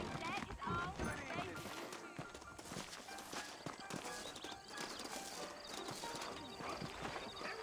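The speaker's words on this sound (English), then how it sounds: "I got the horses saddled up and ready out front." Horse hooves clip-clop steadily in Red Dead Redemption under a busy mix of game music and sounds, with a voice speaking over the top and a horse whinnying briefly.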